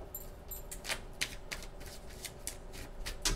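A deck of tarot cards being shuffled by hand, with repeated crisp riffling bursts in an uneven rhythm, close and fairly quiet, with no talking.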